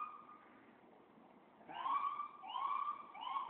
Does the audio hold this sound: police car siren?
yes